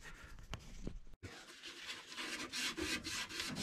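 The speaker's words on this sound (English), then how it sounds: "Sand it down just a little bit." Sandpaper rubs a pipe end for an outdoor water spigot with compression fittings, giving close, soft rasping strokes in an irregular rhythm, with a short pause partway through.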